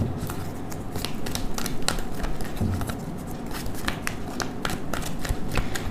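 Playing cards are shuffled and handled one by one at close range, making a steady run of quick papery flicks and snaps throughout, with no talking.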